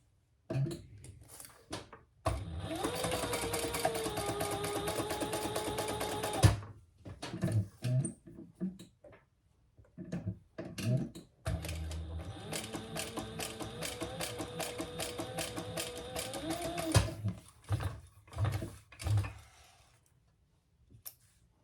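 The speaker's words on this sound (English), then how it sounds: "we're going to sew that together at the seam allowance in the pattern" A sewing machine stitches a seam in two long, steady buzzing runs of several seconds each, broken by shorter bursts and clicks of fabric handling between them, close and clear, with no talking.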